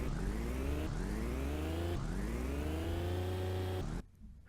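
A car engine sound effect built for a game revs upward in pitch several times in a row, each steady whirring rise cut off and restarted, fairly faint and alone, ending abruptly.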